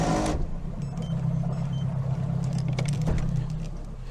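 Boat outboard motor droning steadily close by near a rocky, sandy shore in Voyageurs National Park, a continuous low hum with faint clicks and knocks over it.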